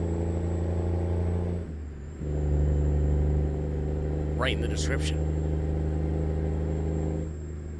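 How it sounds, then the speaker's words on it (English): A 2023 International Lonestar truck in American Truck Simulator idles with a deep, steady diesel rumble, dipping briefly and then resuming with a heavier drone, joined by a short burst of sharp hissing or squeaks near the middle. "enjoy the sights and sounds of this 2023 Harley Davidson International Lonestar"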